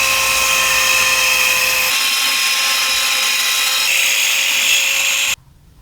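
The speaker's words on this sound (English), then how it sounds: "just use the other drill, Meg." A power drill runs continuously under load, boring into wood during a solar kiln build: a loud, steady high-pitched whine that shifts in pitch partway through, then cuts off abruptly near the end.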